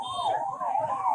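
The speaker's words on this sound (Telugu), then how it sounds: "పోలీసులందరూ కూడా సైరన్ వేసుకుంటూ కూడా వెళ్తున్నారు" A police patrol motorcycle's wailing siren rises and falls in smooth sweeps, loud and close, during a rollout of new patrol vehicles including Royal Enfield and TVS Apache bikes.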